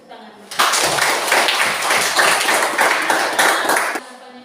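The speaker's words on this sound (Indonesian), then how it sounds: "Kita tepuk tangan." A classroom of students claps their hands together in a burst of about three seconds, with voices mixed in, then falls quiet.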